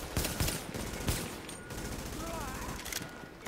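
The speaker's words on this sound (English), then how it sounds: "there's this guy shooting at me" Enemy gunfire in The Division video game on PS4, a few sharp shots early followed by steady rapid firing that runs under continuous game noise and faint voices.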